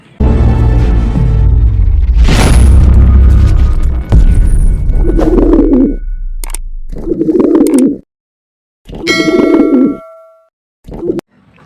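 Three-month-old pigeons cooing in a loft, loud and close, with throaty coos broken by bursts of flapping, knocks and short gaps of silence.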